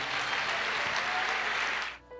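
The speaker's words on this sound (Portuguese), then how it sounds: "Aplauda ao Senhor, meu querido." Church congregation applauding, a loud, dense wall of clapping that cuts off sharply near the end.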